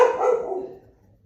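A pet dog named Kelly barks at a passerby outside, a loud close burst of barking that fades off within about a second.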